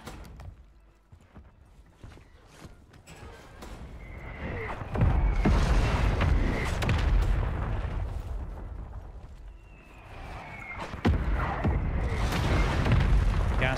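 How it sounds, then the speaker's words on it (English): Mortar strikes explode in the online shooter game Warzone, heavy rumbling booms that swell and roll on for several seconds, loud and close, in two main waves. "Another mortar on us."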